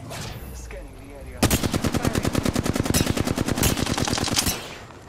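Automatic gunfire in a video game erupts after a quieter opening, a loud close burst of rapid, evenly spaced shots lasting about three seconds before cutting off, with faint background game noise.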